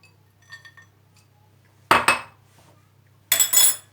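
Hazelnuts are dropped into heat-resistant glass bowls for a cherry and raspberry crumble, giving two close clattering bursts of clinks, with a faint tap just before them.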